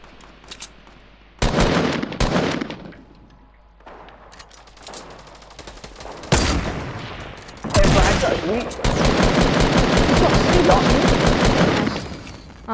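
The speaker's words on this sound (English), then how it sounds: "Whoa, getting sniped from elsewhere now." Sniper and other gunfire in Fortnite gameplay: several loud bursts of shots and rapid firing, broken by brief lulls, building into a sustained stretch of heavy shooting.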